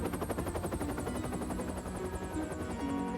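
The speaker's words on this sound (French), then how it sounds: "Très vite, le courrier est chargé dans l'hélicoptère et Harold met le cap sur la ville des Vicaires" Cartoon helicopter from a Thomas & Friends animation flying with a steady, fast rotor chop and a whirring engine drone, loud and continuous for the whole stretch, with no voices.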